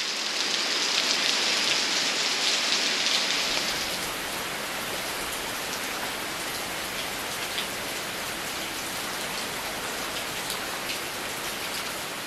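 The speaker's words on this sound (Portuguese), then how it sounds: "de fato tá chovendo um pouquinho" Steady rain falls on a forest trail, a dense even hiss of drops on leaves and ground that runs throughout, slightly brighter and louder in the first few seconds before settling into a constant wash.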